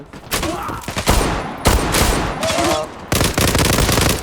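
Loud bursts of video game gunfire, several rapid volleys of shots with short gaps between them, close and dominant throughout.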